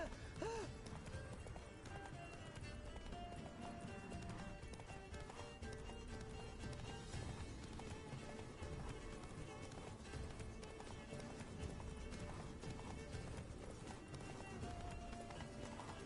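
Horse Roach galloping in The Witcher 3, a steady clip-clop of hooves running on and on beneath dense game music and ambience, with occasional voices talking.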